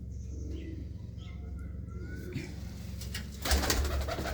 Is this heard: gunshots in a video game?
no